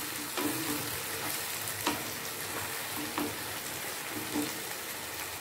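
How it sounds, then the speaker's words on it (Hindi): Tomato frying in hot oil in a pan for a jackfruit curry gives a steady, fairly soft sizzle, with occasional faint clinks and stirring scrapes at irregular intervals. "टमाटर मैंने इसमें डाल दिया है"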